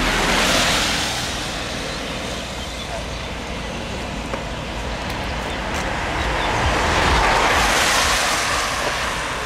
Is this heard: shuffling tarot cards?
no